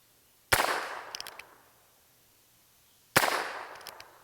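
A Heritage Rough Rider revolver fires two sharp shots at wooden targets outdoors, each a loud crack followed by a rolling echo and a faint distant knock, spaced about two and a half seconds apart, with no talking.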